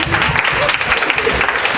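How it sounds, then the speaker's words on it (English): A short burst of steady clapping from a student audience at a campus association open forum, dense and continuous for the whole moment. "Round of applause, really."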